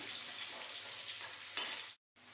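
Onions sizzling and frying in a pan for garlic chicken fry, a steady dense hiss with a brief stir-like burst near the end, then a short cut to silence before the sizzle resumes; no talking.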